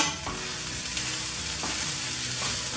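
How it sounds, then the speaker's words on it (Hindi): Sprouts being stirred in a covered pan, a steady broadband sizzle with a few soft scraping strokes of a spoon across the pan, close and continuous with no talk. "1 से 2 मिनट तक पकने देंगे और बीच बीच में फ्रेंड्स हिलाते रहिएगा"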